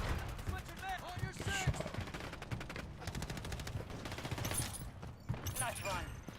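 Rapid bursts of simulated gunfire crackle from a decoy grenade in Call of Duty MWZ zombies mode, layered over busy in-game effects, tonal chimes and voice-like sounds, fairly loud throughout.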